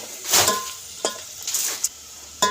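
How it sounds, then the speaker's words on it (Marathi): Potatoes fry until golden in a pot over a wood-fired stove for egg biryani, a soft sizzle punctuated by a few brief scraping stirs and light metal clinks, close and without voices. "ह्याला सुद्धा गोल्डन कलर येईपर्यंत भाजून घ्यायचं आहे"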